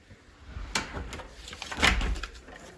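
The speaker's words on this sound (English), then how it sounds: "But that would be your door to the garage." A house door leading to the garage in a new Lennar-built home is handled up close, giving a sharp latch click followed about a second later by a heavier thump and rattle, with no talking.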